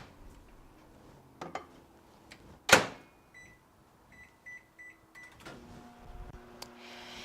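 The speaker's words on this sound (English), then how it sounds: "put this in the microwave for 2 minutes and 15" A microwave oven is loaded with a frittata in a breakfast maker: door clunks shut, a few keypad beeps sound, then a low steady hum starts and runs quietly.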